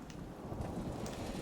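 Rain and rumbling thunder in the game Fallout 4, a steady low roar of downpour with distant thunder and soft wind, continuous and moderately quiet throughout, with no voices.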